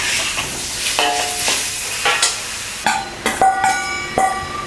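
King oyster and shimeji mushrooms are stir-fried in a pan, with soft sizzling under repeated scraping and clinking of a spatula against the metal in an uneven rhythm.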